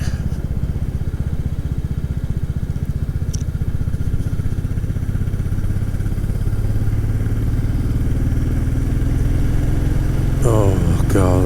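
Motorcycle engine pulling hard out of a bend after a steady entry, a loud close continuous drone that builds in strength, with a voice briefly heard near the end.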